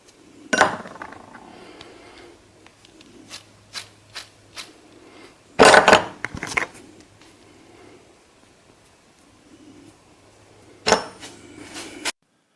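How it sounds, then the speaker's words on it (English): A rusty front wheel bearing on a Harley-Davidson turns while a low, steady hum comes and goes. Loud close clicks, rattles and handling knocks break in at intervals, with no voices. "Here's the sound of a good wheel bearing versus a bad wheel bearing."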